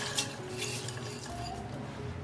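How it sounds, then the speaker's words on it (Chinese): Washed bones are set into a clay pot, giving a few light knocks and clinks of bone against ceramic, close and quiet over faint kitchen background. "准备一个砂锅，把洗好的骨头放进来"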